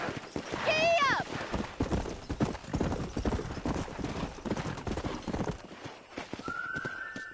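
Horse hooves clip-clop at a gallop in the Western video game Red Dead Redemption, a horse whinnies early on, and characters talk over the rhythmic hoofbeats before they ease off near the end.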